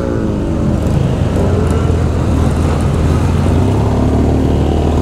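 A BMW GS1200 motorcycle engine drones loud and close, a continuous throaty roar with slight rises in revs and no pauses.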